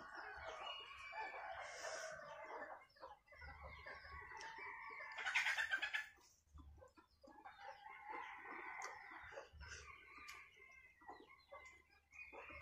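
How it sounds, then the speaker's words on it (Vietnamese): Chickens cluck steadily nearby and a rooster crows once partway through, in a quiet rural setting without talking. "gà kêu quá trời luôn"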